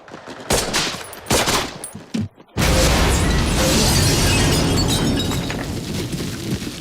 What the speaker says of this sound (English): there's been an explosive like every 2 minutes this episode